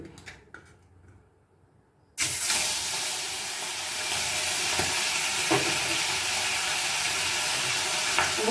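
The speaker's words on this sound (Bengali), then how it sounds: "তেল গরম হয়ে গেছে, আমি আবার একটুখানি করে ঘুরিয়ে দিচ্ছি।" Hot oil sizzles and is stirred in a pan for a thin katla fish curry with ridge gourd, potato and pointed gourd. A loud hiss bursts in suddenly after a quiet start, then holds steady and close with faint scraping stirs.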